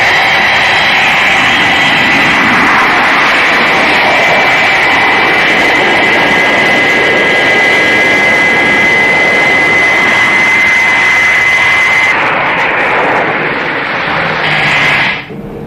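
Jet airliner engines roar steadily in flight in a Thunderbirds scene, a loud continuous whooshing drone with a thin whine on top that cuts off sharply near the end.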